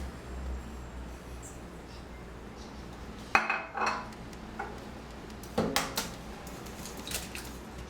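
Banana cake ingredients being mixed in a bowl, with a spoon or whisk clinking and scraping against it in scattered knocks and short bursts over a low background hum, close and fairly quiet, with no talk.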